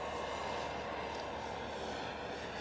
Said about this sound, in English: it actually kind of sounds like a real helicopter